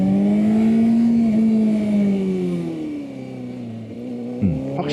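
Honda CBR600RR sport motorcycle on Metzeler Sportec M9 RR tyres, ridden gently on a public road: a close, continuous engine drone with clear harmonics whose pitch climbs, eases and dips as the throttle changes, with no talking.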